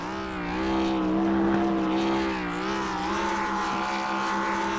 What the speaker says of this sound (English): someone lighting up their race car with some donuts post-race